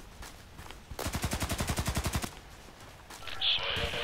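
Rapid automatic gunfire in the online shooter Contract Wars, a single burst of about fifteen evenly spaced shots lasting over a second, followed by quieter game ambience and a brief clatter.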